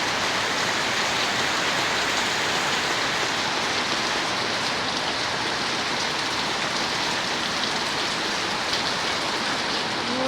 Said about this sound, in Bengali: খুব জোরে নামছে এখন বৃষ্টি